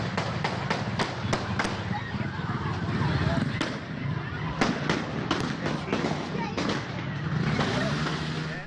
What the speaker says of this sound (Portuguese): A carreata já estava quase no fim quando os disparos foram ouvidos.